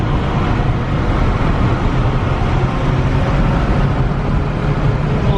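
Rental car fitted with race wheels accelerating hard in fourth gear while racing a nitrous Miata: a loud, steady engine and road roar held at full pull throughout, with no speech.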